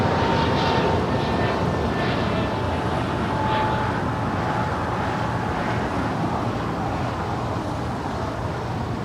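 An airliner landing on runway 25 left at Los Angeles International Airport, a continuous loud jet-engine roar with a faint whining tone on top, steady throughout and fairly near.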